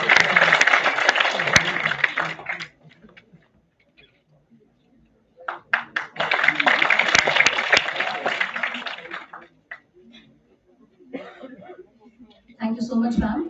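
Audience applause at a national seminar after a memento presentation, coming in two broad bursts of clapping separated by a short lull, with brief coughs and throat clearing in the quieter gaps and another burst at the end.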